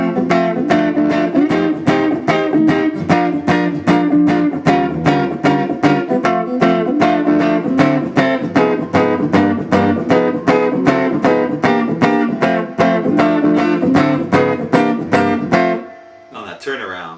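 Guitar chugs a fast boogie chord progression, with steady driving strummed chords at an even rhythm and a slightly gritty tone, loud and close, stopping near the end as a voice begins.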